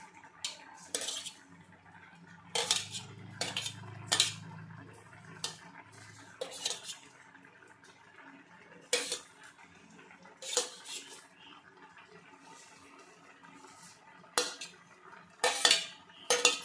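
A metal spoon stirring egg Maggi noodles in a pan, giving sharp, irregular clinks and scrapes against the metal, close and clear, spread out with quiet gaps between bursts and no talk.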